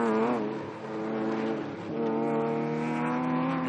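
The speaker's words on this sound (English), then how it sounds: "Hear all the throttle application from the BMW as he works through the keyhole turn" A BMW race car in SCCA Runoffs Super Touring Under competition gives a loud, sustained engine note under steady throttle through a keyhole turn, with a brief dip and lift in revs midway before pulling on again.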